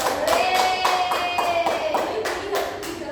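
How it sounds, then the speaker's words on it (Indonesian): A class in a micro-teaching session claps together in a short burst of rhythmic, fairly close hand claps, with a voice over the clapping. "Tepuk tangan untuk"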